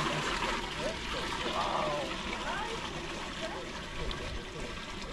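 Water draining and trickling from a basin during an equator-line demonstration in Ecuador, a steady splashing flow heard close up with voices talking over it.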